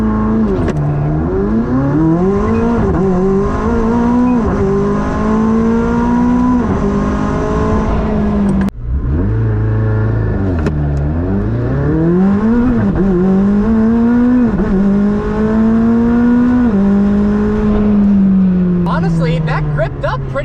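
A McLaren 765LT drag races a Camaro SS, engines revving loud and close with repeated rising gear-shift sweeps, a brief break near the middle, then a sustained high-rpm run; people talk over it.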